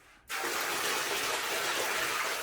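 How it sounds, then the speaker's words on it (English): A bucket of water is dumped into a shower pan, starting with a sudden gush and then settling into a steady, close, loud rushing pour that continues to the end. "So I'm actually going to add 1 more bucket of water just because I want those back corners."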